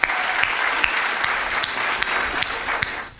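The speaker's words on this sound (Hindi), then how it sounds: "इसके लिए आप लोग जोरदार तालियां बजाकर उनका सम्मान करें" Audience applause at a Hindi poetry gathering marking Teachers' Day, a steady burst of many hands clapping throughout, close and lively.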